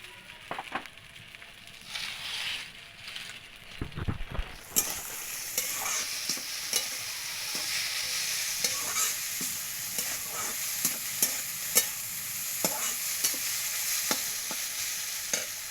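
Chowmein noodles being stirred and fried in a pan: continuous bright sizzle with repeated scraping and clacking strokes of the utensil, a loud burst of frying early on, then steady hissing with regular stirring taps.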